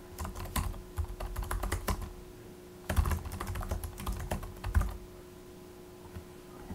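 Keystrokes on a computer keyboard while entering text into a web page field, in irregular bursts of clicks with short pauses between them, close and fairly quiet, with no talking.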